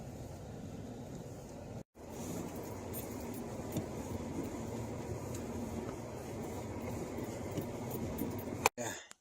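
Vehicle driving past a barn at a rural camp in January, a steady close rumble of engine and tires that holds for several seconds with no talk, broken by short dropouts near the start and end.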